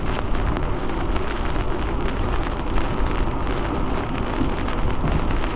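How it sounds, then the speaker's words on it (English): Wind-driven rain pelting steadily, a dense continuous hiss with gusty surges throughout, close and fairly loud with no voices. "Oh, that rain is attacking me right now."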